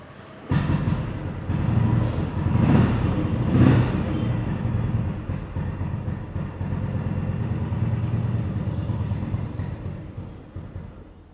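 A vintage Royal Enfield Bullet motorcycle with old registration starts up with a couple of revs and settles into a steady, close, loud idle that runs on alone.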